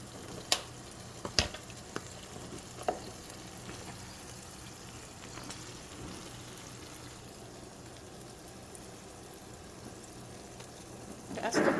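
Hamburger steaks frying in a pan with onion and garlic added, giving a quiet, steady sizzle with a few sharp clinks and taps of utensils scattered through it.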